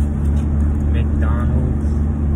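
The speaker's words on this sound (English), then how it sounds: "my girlfriend Jasmine driving" A car driving, heard from inside the cabin, with a steady low engine and road drone under brief voice sounds.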